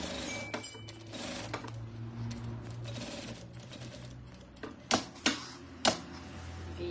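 A sewing machine stitching a soft fabric lining to make a bread basket, running in a steady close whirring burst, then pausing, followed by a few sharp clicks.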